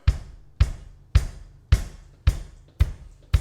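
A foot-pedaled hi-hat gives six evenly spaced, crisp metallic chicks, each ringing briefly before the next, with no talking.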